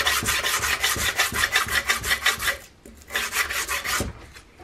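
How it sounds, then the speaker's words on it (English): Rhythmic back-and-forth strokes of 80-grit sandpaper on a wooden muzzleloader rifle stock and its mounted metal hardware, a close, loud rasping with a brief pause midway. "So I'm going to go over the whole stock and all the hardware mounted with this 80 grit."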